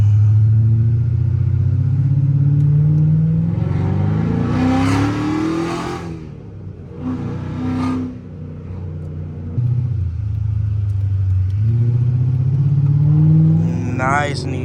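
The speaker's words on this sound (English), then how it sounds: "got some little downshifts" A Chrysler 300C with a 5.7L HEMI V8 downshifts on the road, deep engine rumble rising and falling through several revving blips, heard from inside the car with a voice speaking over it.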